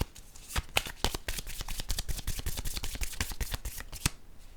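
Cards are shuffled for a tarot-style card reading: a rapid run of crisp, close riffling clicks for about four seconds, then a short pause with no speech.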